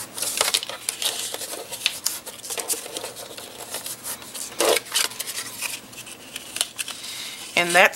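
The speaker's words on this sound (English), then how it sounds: "Cut out all of those little boxes right there in the corner." Scissors snip out small corner boxes from paper, producing scattered close cutting and rustling sounds, with a short crisp snip near the end and handling noise between cuts.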